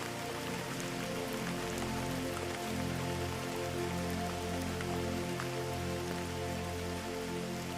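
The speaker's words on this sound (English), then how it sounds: "The gentle pitter-patter of rain taps steadily on the wooden roof above, a rhythm that feels comforting." Steady rain patters on the wooden roof of a cabin, a dense, continuous hiss of fine drops that keeps an even level throughout with no talking.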